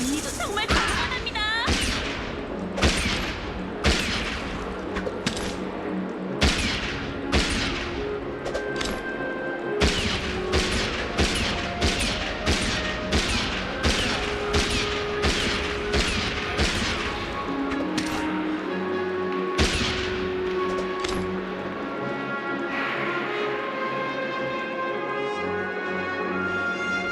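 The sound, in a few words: gunfire volley from video game Honkai Star Rail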